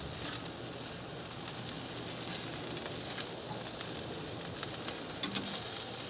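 Chicken wings sizzle on a barbecue grill in a dense, steady crackling hiss that stays even and close throughout, with scattered small pops.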